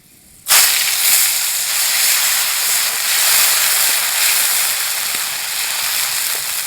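Panch phoron spices and bay leaf hit hot oil for a simple mixed vegetable dish, bursting into a sudden loud, steady sizzle and hiss that carries on evenly to the end with no voices.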